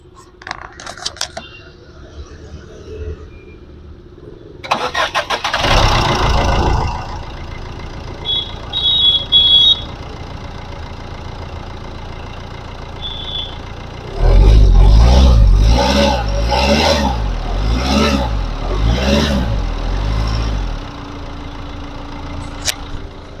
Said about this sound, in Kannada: ಇಂಜಿನ್ ಸ್ಟಾರ್ಟ್ ಮಾಡಿನೂ ಕೂಡ ತೋರಿಸ್ತೀನಿ ಸೌಂಡ್ ಹೆಂಗಿದೆ ಅಂತ